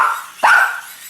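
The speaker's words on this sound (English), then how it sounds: "My dog's gonna start freaking out." A dog gives one sharp, close bark, loud and alone, in a room where an emergency radio is being tested.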